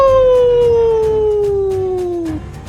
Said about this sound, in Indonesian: manusia muka iblis ini keluarkan suara lolongan serigala